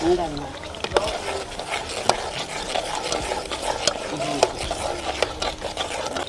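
A spoon stirs a thick tomato paste stew in a pot, making repeated soft clicks and scrapes at an uneven pace, with a faint voice near the start.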